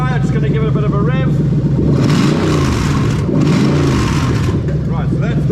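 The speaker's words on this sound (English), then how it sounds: "Drive-by-wire, just going to give it a bit of a rev." Toyota UZ-FE VVT-i V8 with drive-by-wire throttle revving, a loud, close engine that rises and falls through a quick blip, heard under someone talking throughout.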